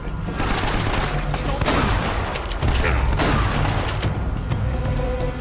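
Gunfire in the video game Uncharted: Drake's Fortune Remastered, a dense run of loud overlapping shots and bursts that continue steadily throughout, up close with no talking over them.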